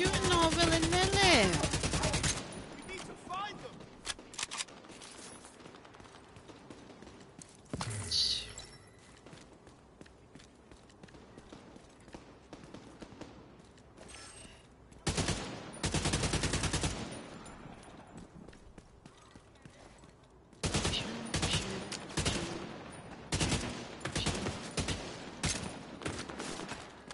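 Gunfire in the video game The Division, bursts of automatic shooting at the start and again near the middle and end, separated by quieter stretches with footsteps and scattered sounds.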